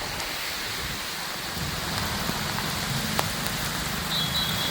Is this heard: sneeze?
no